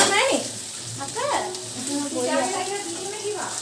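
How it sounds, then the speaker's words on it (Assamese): Brinjal slices fry in a pan with a steady hiss of sizzling oil, while voices talk over it at moderate volume throughout. "এয়া বেঙেনা ফ্ৰাই কৰিছে"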